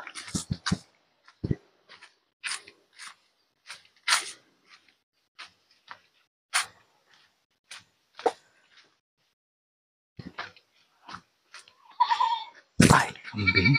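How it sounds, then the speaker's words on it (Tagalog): Goats on a farm bleat in short, scattered calls, some near and loud and others fainter, with quiet gaps between them and a rustling burst near the end. "Ay, kambing."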